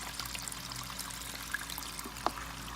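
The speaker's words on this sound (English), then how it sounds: "So the water's coming back there." Water from a solar-powered pump runs back through a return line of joined pipes, giving a quiet, steady trickling pour that holds through the moment with a couple of faint splashy ticks.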